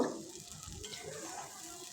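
Spice paste hitting hot oil in a pan for a Bengali fish curry, giving a low, steady sizzle and hiss that starts a bit stronger and settles into a soft, continuous fry.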